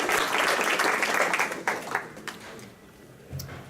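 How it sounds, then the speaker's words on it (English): A round of applause for the speakers at a Bay Area search meetup, dense clapping from a modest crowd that thins out into a few scattered claps and then trails off. "So let's give our speakers a round of applause"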